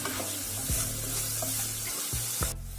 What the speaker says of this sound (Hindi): नमक और हल्दी डालने से प्याज जो है अच्छी तरह से भून जाएंगे